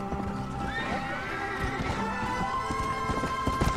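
A horse in the video game Red Dead Redemption gallops with rapid hoofbeats and neighs loudly, the clip-clop rhythm continuing under the whinny with game sound around it.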